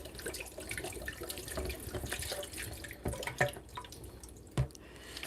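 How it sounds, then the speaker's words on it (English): Coconut water poured into a blender for a protein smoothie, a steady close liquid stream and splashing running throughout, with a couple of brief knocks near the end. "So I'm adding the coconut water in the blender,"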